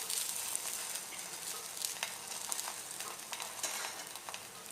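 A parotta cooks on a hot stovetop pan with a steady, close sizzle and scattered small crackles and pops, with no talking.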